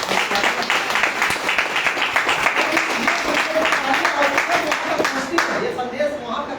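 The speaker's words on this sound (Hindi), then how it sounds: "तो एक बार उन दोनों महामहिम के लिए ताली होनी चाहिए" Applause from an audience at a business products training seminar: dense, steady clapping that holds at an even level throughout, with a voice or crowd murmur mixed in underneath.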